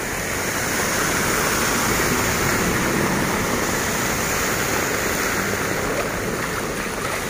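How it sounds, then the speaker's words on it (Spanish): Rushing floodwater from a swelling river during Hurricane Nora in Acapulco, a steady loud broadband roar with no break, close and continuous throughout. "Ya empieza a crecer el río, miren."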